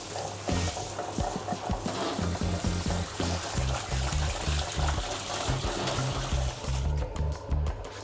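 Warm shower water runs steadily over a Bordoodle being washed during a grooming session, a continuous splashing and trickling wash close by with no talk.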